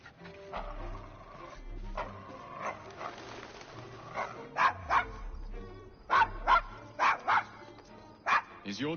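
A dog named Desmond barks repeatedly in a Victorian London video game scene, sharp yapping barks in irregular bursts that grow louder toward the end, with faint background music and no voices.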